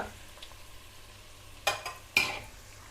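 Onions dropped into hot coconut oil give a couple of sharp sizzling bursts over quiet kitchen background, with faint stirring scrapes between them.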